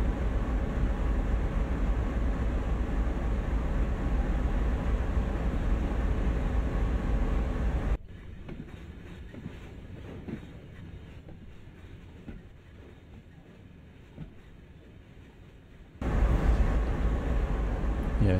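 A long CSX freight train rolls on in the Train Sim World game, a steady rumbling drone with wheel noise that drops quieter midway and then returns louder, no talk.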